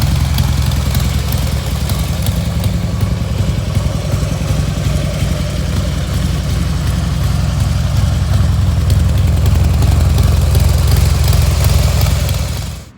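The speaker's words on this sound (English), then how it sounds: "So we're gonna get this bike out, do a little ride, enjoy it." A Harley-Davidson motorcycle engine runs continuously, a loud, close, low rumbling idle that holds steady throughout and cuts off abruptly at the end.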